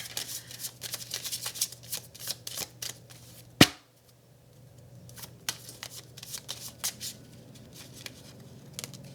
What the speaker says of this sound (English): can you please give me some healing with the angels cards?